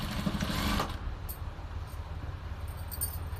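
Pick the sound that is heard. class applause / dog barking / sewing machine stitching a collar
sewing machine stitching a collar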